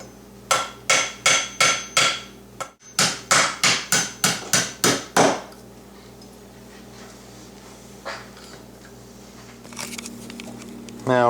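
A hammer drives a stiff pin out of a BPS, about a dozen sharp metallic strikes in two quick bursts split by a short pause, close and loud, then quiet handling noises follow.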